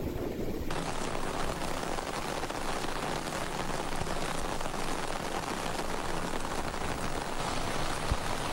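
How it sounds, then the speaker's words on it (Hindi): Steady rain falls in a Pakistani city during a downpour, a dense, even hiss of drops hitting surfaces that stays loud and constant throughout, with no voices. "इस्लामाबाद, रावलपिंडी और लाहौर समेत कई शहरों में बारिश।"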